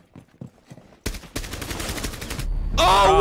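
Gunfire erupts in Rainbow Six Siege, starting with a single shot and then a sustained burst of rapid automatic fire, loud and close, followed by a shout.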